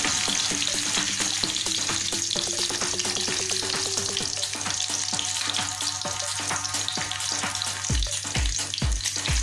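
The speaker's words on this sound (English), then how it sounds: "Now I add a mixture of cinnamon, cloves, coriander in a pan and fried it" Cinnamon, cloves and coriander fry gently in a pan for chicken biryani, giving a dense, steady close-up sizzle; a few sharp scrapes or knocks land near the end.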